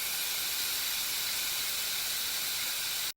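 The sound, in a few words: steam hissing in a steam room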